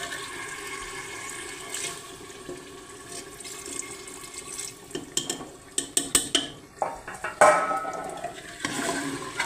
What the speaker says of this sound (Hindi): गर्म पानी डाल रहे हैं।